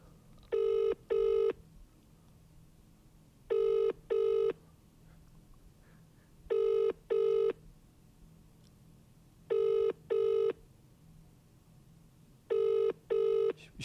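An outgoing telephone call rings with a repeating double-burst ringback tone, five evenly spaced pairs of beeps about three seconds apart over a quiet room hum, with no talking.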